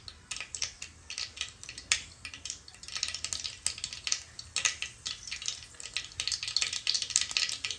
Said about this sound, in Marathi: मोहरी आपली चांगली तडतडली आहे।